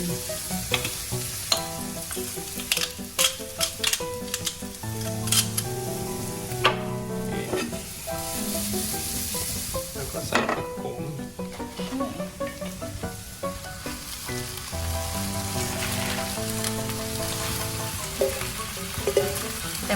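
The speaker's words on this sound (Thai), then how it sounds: "เวลาผัดมันต้องไฟแรงๆ" Bacon sizzles and crackles steadily in a pan over high heat while being stir-fried, with scraping and clinking of a utensil against the pan throughout.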